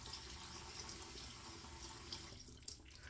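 Tap water running steadily into a sink to warm a washcloth during a shave, a continuous close splashing flow that thins out toward the end.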